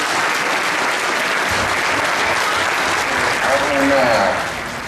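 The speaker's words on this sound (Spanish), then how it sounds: "les pido que le den un cariñoso aplauso a todos ustedes" A crowd at a political rally applauds in a dense, sustained wave that holds steady before easing slightly at the end, with a voice faintly heard beneath the clapping.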